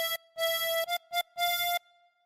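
Tremolo harmonica playing a phrase of the Bingo melody: four separate reedy, wavering notes, with two longer held tones around two brief ones, close and clear, then silence.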